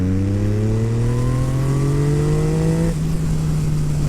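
Yamaha MT-09 motorcycle fitted with a full Akrapovic exhaust accelerating hard, a loud, close engine note climbing steadily in pitch for about three seconds before the throttle eases and the exhaust drops to a lower steady drone.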